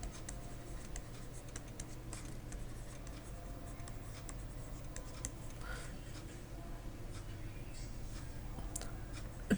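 Pen scratches out an algebra solution on paper in soft, faint strokes and taps, close and quiet against a low background hum.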